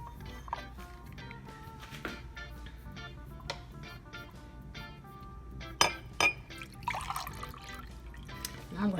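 Homemade Jamaican ginger beer poured into a glass: faint trickling and dripping with sharp glass clinks and knocks, close by, growing busier toward the end.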